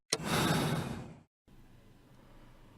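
A single close breathy yawn, about a second long, fading out into faint room noise.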